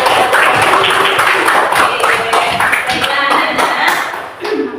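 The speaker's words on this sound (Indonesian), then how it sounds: "terima kasih tepuk tangan untuk kita semua" Close, loud clapping from a classroom group of students with a teacher, a burst of many hands in uneven rhythm that thins and fades toward the end.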